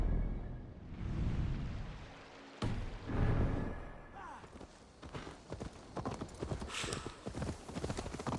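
Horse hooves clip-clop in a steady rhythm, close by, in Assassin's Creed Valhalla, while voices talk over them.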